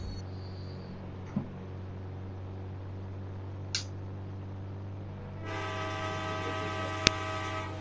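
A train in a 3D Indian village bike game with zombies hums as a steady low rumble, with a few faint clicks. Partway through, a sustained horn blast sets in and holds loud to the end.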